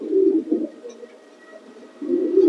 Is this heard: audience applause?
no